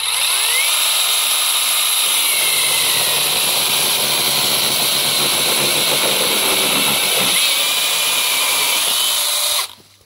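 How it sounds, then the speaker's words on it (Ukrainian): Two cordless battery chainsaws, a Konsun and an AL-KO, cut through wood with a loud, steady high-pitched motor whine that holds for several seconds and then stops abruptly. "Китайська пила Консун за 4 тисячі гривень з двома акумуляторами і зарядним пристроєм. Проти Алко з одним акумулятором"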